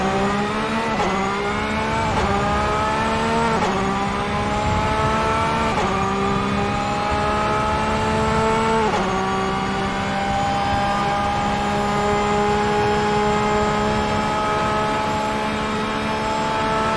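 Porsche race car engine screaming around Bathurst in a racing video game, loud and continuous, climbing through the gears with several sharp upshifts early on, then holding a steady high drone.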